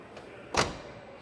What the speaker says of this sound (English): That door shuts perfect.